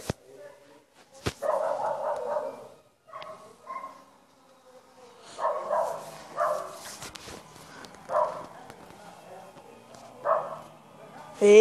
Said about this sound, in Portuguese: O cachorro tá lá no fundo latindo.